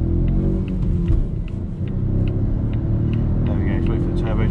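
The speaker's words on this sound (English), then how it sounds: "then we'll go from a 0 to 70 as if we're joining a motorway" A Volvo XC40 T3 Momentum with a 163 bhp engine accelerates hard onto a dual carriageway from a standstill, its loud steady engine and road rumble filling the cabin with a slight dip midway, as a voice talks over it.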